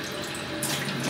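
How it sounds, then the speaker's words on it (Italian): Cold water runs from a tap into a kitchen sink, a continuous close splashing rush that stays even and fairly loud throughout, with no talk over it. "sto facendo scorrere l'acqua fredda"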